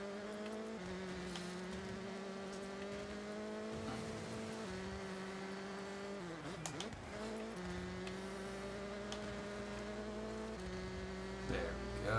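A race car in Forza Horizon held at full throttle, engine droning at a high steady pitch that climbs through several gear shifts, with a tire squeal near the middle and no talking.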